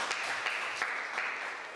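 An audience claps after an Indonesian classroom teaching presentation, a brief, fairly faint patter of hands from a small group, with a few louder claps standing out.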